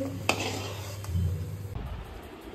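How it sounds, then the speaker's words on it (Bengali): Luchi, a puffed flatbread, frying in hot oil: a short burst of bubbling sizzle with a sharp utensil clink and stirring clatter close by. "আর লুচি ভাজা হচ্ছে।"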